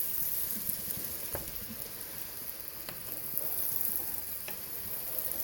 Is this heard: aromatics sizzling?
yes